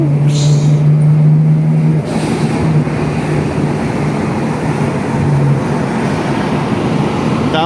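A Nissan GTR R32 with its RB26DETT engine drives below 4500 rpm, producing a loud continuous cabin drone and road rumble with a low engine hum that steps in pitch.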